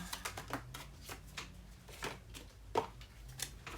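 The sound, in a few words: shuffling tarot cards, Cosmo Tarot deck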